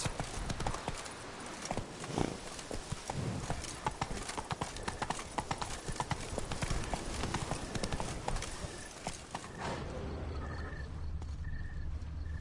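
Horse hooves clip-clop at a gallop in The Witcher 3 (Blood and Wine), a steady drumming rhythm close by that runs throughout, with occasional faint game ambience and a brief snort.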